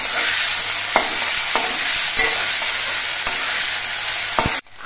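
Ginger paste is stirred into potatoes frying in a pan, a steady oily sizzle with a few sharp scrapes and knocks of the spatula at intervals, loud and close with no talking.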